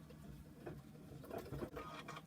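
An embroidery machine stitches an outline in white thread, giving a soft, steady mechanical patter of rapid needle strokes, fairly quiet and close, with no voices.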